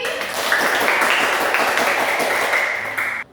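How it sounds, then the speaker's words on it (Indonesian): A school class gives a round of applause in the classroom, a steady wash of many hands clapping for a few seconds before cutting off abruptly, with some voices faintly audible beneath. "Tepuk tangan lagi sekali."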